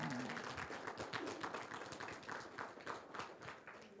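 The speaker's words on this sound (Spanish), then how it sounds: "Le va a hacer un aplauso, dáselo bien, por favor" A church congregation applauds for the Holy Spirit with dense, continuous clapping, moderately distant and fairly quiet, with voices mixed in underneath.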